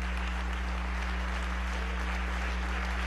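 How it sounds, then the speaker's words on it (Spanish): Members of a national constituent assembly applauding in a large chamber, a steady, unbroken wash of clapping heard from a distance over a low electrical hum. "de pie un aplauso, camarada, a estas mujeres que han sido capaces"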